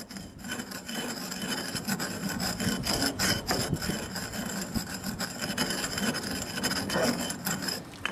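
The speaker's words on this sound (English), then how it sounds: "Just a little bit in, grind it up, break down all those bigger particles." Pyrite being ground down into small particles, a continuous harsh gritty scraping and rasping with steady rhythmic strokes, close and fairly loud without talk.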